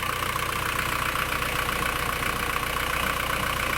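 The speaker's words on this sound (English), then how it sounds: "See the engine in the engine room." A boat engine idles at about 800 RPM inside its engine room, a steady, close, continuous drone with no changes in pitch or any voices.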